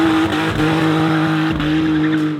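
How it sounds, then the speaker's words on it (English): A Subaru WRX STI fitted with a six-cylinder engine doing a burnout, engine roaring loudly and steadily while the tires squeal and skid continuously, close up with no talk. "Do a burnout!"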